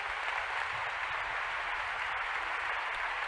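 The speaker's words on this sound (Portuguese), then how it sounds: "E aplaudamos o Senhor." A church congregation claps together in sustained, dense applause that keeps an even level throughout, with no clear single voice standing out.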